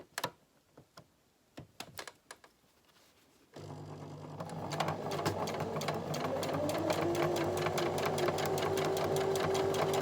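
Sewing machine stitching a zip into a cushion: a few sharp clicks and handling taps, then the motor starts and runs continuously at a steady, close, rising whir for several seconds.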